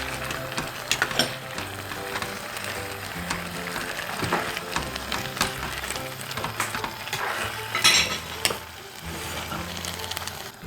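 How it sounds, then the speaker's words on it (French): Chicken and onion filling for pastilla being stirred in a pot, a steady close sizzle with scraping and clinking of the spoon throughout, no talking. "vous mélangez le tout."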